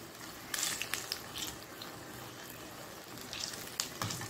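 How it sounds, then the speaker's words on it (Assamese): Cheese pakoras with boiled potato frying in hot oil, a quiet steady sizzle with a few brief clinks and stirring scrapes, no talking. "সকলোখিনি ভাজি উঠাই লওঁ।"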